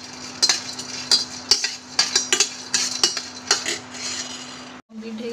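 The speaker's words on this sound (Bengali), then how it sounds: "আমি গরম মশলা দিয়ে একটু নাড়িয়ে চাড়িয়ে নেবো হালকা" A metal spoon stirs biryani with garam masala in a pan, clinking and scraping against the sides in quick, uneven strokes, close up, with a steady low hum underneath and a brief cut near the end.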